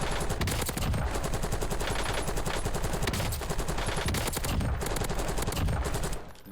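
Sustained automatic gunfire from Call of Duty Warzone, a dense, loud unbroken stream of rapid shots lasting several seconds before cutting off abruptly at the end.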